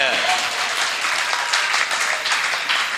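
Audience applause at a ghazal mushaira poetry gathering, a dense, steady wash of clapping that fills the whole moment without a break, with some voices mixed in.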